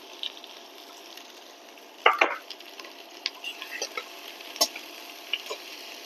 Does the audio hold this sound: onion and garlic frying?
yes